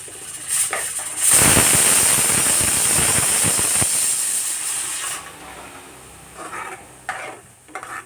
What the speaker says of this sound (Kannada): ಇವಾಗ ಕುಕ್ಕರ್ ಹೋಗುತ್ತೆ